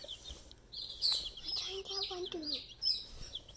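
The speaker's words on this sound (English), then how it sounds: "those are six chickens we're raising right now" Backyard chickens cluck and chirp in quick, close bursts, several birds calling over a soft indoor background.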